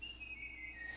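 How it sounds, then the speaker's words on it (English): A high, thin whistle line sustains in a music track, held tone with slight pitch drift over quiet background, no talking. "With the whistle?"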